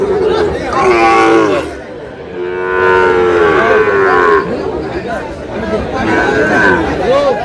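A Sahiwal bull moos repeatedly with long, drawn-out calls at a cattle market, mixed with people chattering nearby in a busy, noisy setting.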